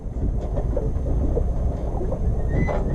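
Sailboat motoring under engine power through the Florida Keys, a loud steady low engine drone with water rushing along the hull and wind buffeting, continuous and close.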